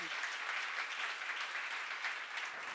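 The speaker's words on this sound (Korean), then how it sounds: "박수를 하세요" Congregation at a church seminar applauding, a dense, steady round of clapping held throughout at close range.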